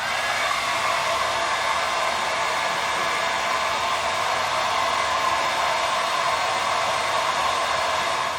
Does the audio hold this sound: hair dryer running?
yes